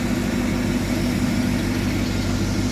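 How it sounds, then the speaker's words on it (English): A car engine idles steadily while heater core sealer circulates through its cooling system, giving a constant low hum close by that never changes pace, with no talking. "It's been idling for 50 minutes with the stuff circulating through it."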